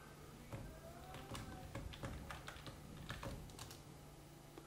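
Typing ADB commands on a computer keyboard: quick, irregular keystroke clicks close by, a dozen or so taps in uneven bursts over a low steady hum, with no talking.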